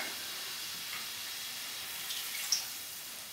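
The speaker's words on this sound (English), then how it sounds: "I'm just going to fill this back up with some water" Tap water runs steadily into a can in a home kitchen while curry vegetables are being cooked, a continuous hissing stream heard alone, with a brief louder splash near the end.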